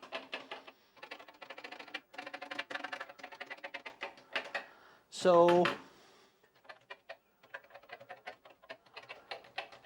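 Keys on a Commodore PET computer keyboard, some faulty, clatter in irregular bursts of close, sharp clicks, broken by a brief spoken word and pauses, then resume in scattered presses.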